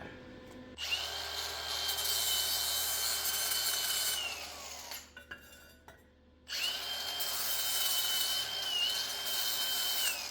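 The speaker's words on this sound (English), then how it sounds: "I'm going to grind it down a little, then I'm going to put a sleeve on it." An angle grinder grinding down a weld on a Polaris Ranger sway bar runs loud and steady with a high whine, cuts out briefly as it spins down, then starts again for a second long pass.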